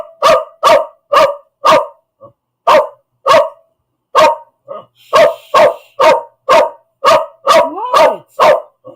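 A dog barks loudly and close in a rapid series of sharp, evenly spaced woofs, pausing briefly before resuming, with a few whines mixed in near the end.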